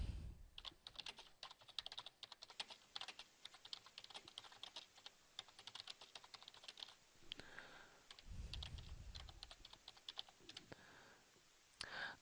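Someone typing a comment on a computer keyboard: quiet, continuous rapid key clicks with an uneven rhythm and short pauses, heard alone and close.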